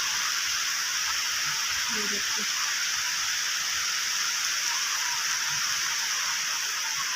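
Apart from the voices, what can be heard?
rain falling, heard from a balcony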